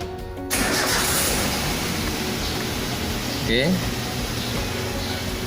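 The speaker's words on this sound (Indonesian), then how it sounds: "kita coba nyalakan mesin ya, supaya lebih mantap" A car engine cranks and starts during MAP sensor troubleshooting with a scan tool, then settles into a steady idle with a bright mechanical whine. A brief chirp sounds partway through, and the engine stays close and loud throughout.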